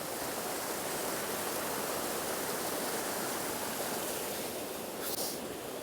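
Steady, dense roar of the Lohnbachfall waterfall filling the whole clip, loud and close with no breaks, like standing right beside it.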